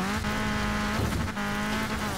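An Alfa Romeo Giulia Quadrifoglio driving in Forza Horizon 4 holds a steady, loud engine drone with a sustained tonal hum and brief tire noise, continuous throughout.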